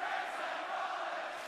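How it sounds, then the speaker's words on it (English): Loud wrestling crowd roaring at a WWE return, a dense sustained wall of cheering and yelling that holds steady without a break. "The crowd was so loud."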